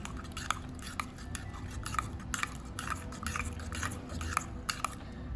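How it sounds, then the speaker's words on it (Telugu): Two eggs beaten briskly with a utensil in a bowl for an omelette, a steady run of quick, light clinking and tapping strokes at close range, fairly quiet and with no talking. "సో 2 ఎగ్స్ వేసేసుకున్నాం కదా, ఇప్పుడు బాగా మిక్స్ చేసుకోవాలన్నమాట"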